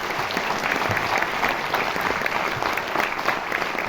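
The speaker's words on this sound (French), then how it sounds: "Si vous voulez bien les applaudir." Sustained audience applause fills a cinema hall at a French film premiere, dense steady clapping from a large crowd holding at an even level throughout, with no voices over it.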